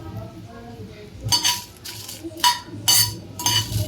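Spoon scraping and clinking against a pan while Byadagi dried red chillies are fried on low heat for raw mango chutney; several short, sharp metallic stirring scrapes come in bursts over a faint background.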